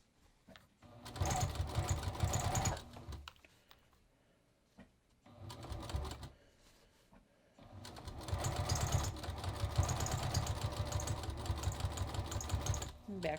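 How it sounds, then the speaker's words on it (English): A sewing machine stitches a back tack on an easy front fly zipper in three motor bursts, short then longer, with quiet pauses between and a steady close whir. "I am just going to start stitching the back tack."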